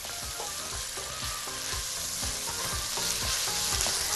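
Minced meat sautés in a pot for freekeh, a steady close sizzle broken by rhythmic scraping strokes of a spoon stirring against the metal, repeating roughly every half second with no talking.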